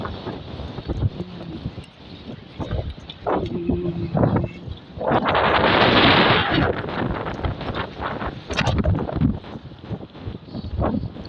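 Strong wind gusts buffet the microphone in a residential neighbourhood of Araraquara, Brazil, rising to a loud roaring blast mid-way, with rumbling and scattered knocks throughout.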